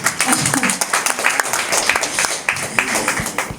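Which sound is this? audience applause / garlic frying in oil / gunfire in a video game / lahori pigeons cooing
audience applause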